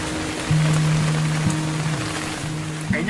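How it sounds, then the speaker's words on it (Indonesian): Heavy storm rain pounds down on Mount Gede at the Suryakencana meadow: a dense, steady hiss of downpour fills the whole stretch, with a low droning hum running underneath. "Hujan badai sepanjang malam berlanjut sampai pagi"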